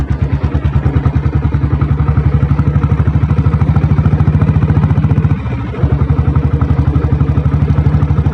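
A Royal Enfield Bullet motorcycle with a diesel engine runs in good condition, a loud close steady thumping beat at a fast even rhythm, briefly dipping near the end before resuming, with no voices.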